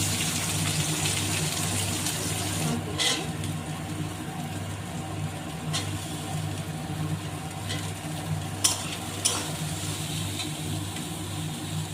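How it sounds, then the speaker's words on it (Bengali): Sliced onion dropped into hot oil in a wok sizzles with a steady, dense hiss that runs unbroken throughout, over a low background hum, with a few brief crackles near the end. "কড়াইতে তেল দিয়েছি, তেলটা গরম হয়ে গেছে, এবার দিয়ে দিচ্ছি পেঁয়াজ"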